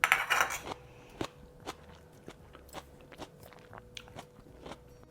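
Crunchy salad is eaten alongside veg pulao and yogurt raita, with sharp, irregular bites and crunches and light cutlery clinks after a louder scraping burst at the start.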